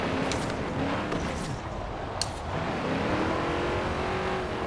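A heavy muscle car's engine in Forza Horizon 4, a sluggish V6 or inline four, accelerates with rising harmonic whine through gear changes, mixed with tire noise and game sounds, continuous and fairly loud.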